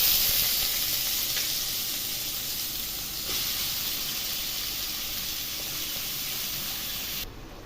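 Cut ash gourd hits hot oil with bay leaf, dried chili and cumin, giving a loud, steady sizzle and hiss that fades slightly toward the end.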